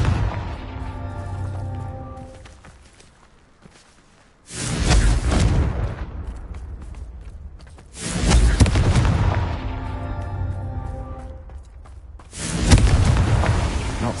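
In the Hogwarts Legacy video game, three heavy Confringo spell explosions boom out at regular intervals, each a loud broadband blast that rumbles and decays, with quieter game ambience and tonal music between them.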